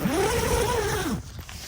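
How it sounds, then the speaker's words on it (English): A single drawn-out zipper pull opens the side zip on a Kemimoto 420D UTV cover, heard close and clear for about a second before it stops, with no voice. "Then when you want to unzip it,"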